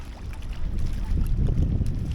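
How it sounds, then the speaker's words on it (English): Wind gusting over the water at night on a cold fishing trip, a steady low rumble buffeting the microphone that grows stronger partway through, with no talking. "A bit the wind came up."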